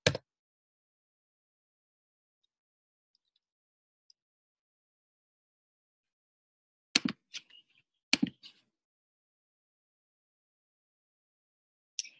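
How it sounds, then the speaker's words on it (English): Typing on a computer keyboard in a quiet room: an isolated click at the start, then two short bursts of several quick keystrokes, and a last tap near the end, close and crisp with silence between. "just start typing the city."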